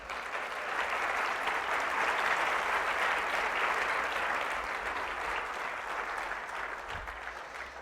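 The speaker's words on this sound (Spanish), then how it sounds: "Dale palmas a Él." A church congregation applauds steadily for several seconds, a dense, even wash of clapping from many hands that fades slightly toward the end, with no voices over it.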